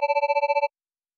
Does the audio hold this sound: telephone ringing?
yes